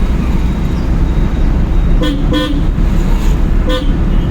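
A car horn gives three short, clear honks during a driving lesson, over loud, steady road and engine rumble.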